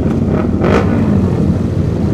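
A big motorcycle's engine roars loudly and steadily at a Sunday group ride meetup, the revving dense and continuous with a brief swell in pitch near the start and no clear pauses.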